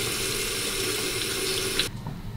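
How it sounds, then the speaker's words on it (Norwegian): Tap water runs steadily into a sink for handwashing, a constant broad hiss that drops off abruptly near the end, leaving a quieter trickle. "Håndvask med vann, da venter du til vannet er varmt."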